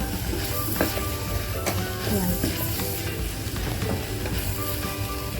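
Fried rice with green chili sizzling in a pan over medium heat, a dense continuous crackle close up with scattered clinks and scrapes as it is stirred, no talk.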